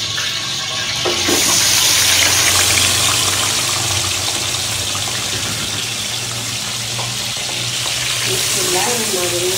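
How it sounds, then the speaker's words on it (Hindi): Chicken sizzles and crackles loudly in hot ghee, a dense continuous frying hiss with occasional stirring noises. "चिकन मैंने ऐड कर दिया है। अभी देखें कितनी आवाज़ें आ रही है इसकी।"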